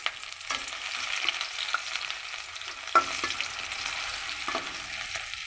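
Onions sizzle steadily in hot oil, a soft continuous frying hiss with occasional stirring scrapes and clinks.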